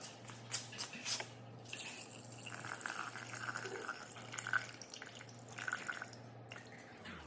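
Water poured from a measuring vessel into a Thermomix bowl for a creamy chicken pasta, a soft steady trickle and drips lasting several seconds, quiet and close.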